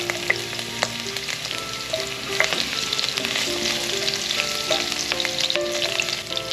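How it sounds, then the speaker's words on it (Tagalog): Garlic sautés in a hot pan for a pork bopis dish, sizzling and crackling steadily at close range with occasional stirring scrapes and no talk. "Gisa lang tayo ng bawang."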